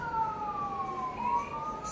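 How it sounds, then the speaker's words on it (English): Emergency vehicle sirens outside a hair removal studio, a continuous wailing tone sliding slowly downward and back, steady and moderately loud through a wall, with no talk. "Excuse the sirens."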